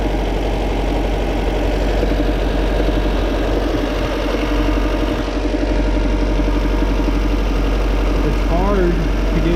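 A 2014 Chevy Volt's Ecotec engine idling with a cylinder 1 misfire during a secondary ignition test, a steady low rumble running throughout, with voices in the background.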